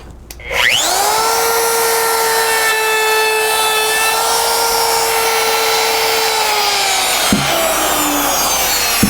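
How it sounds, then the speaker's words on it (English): A wood router spins up to a high, steady whine as its bit cuts a slight bevel into a wooden board, holding loud and even for several seconds before the pitch drops and it winds down. "So now let's just do a slight bevel. Show you what that does."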